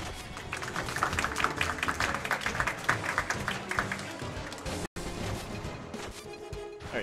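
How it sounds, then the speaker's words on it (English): Audience applause at a live ESA Summer 2019 speedrun marathon event fills the room as dense, sustained clapping for several seconds, cut by a brief dropout before quieter game sounds continue. "Can we get a clap for Dirk?"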